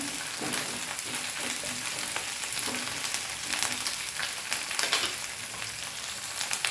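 Okra frying on high flame in a pan, a loud dense crackling sizzle that runs unbroken throughout, with light stirring scrapes now and then and no voices.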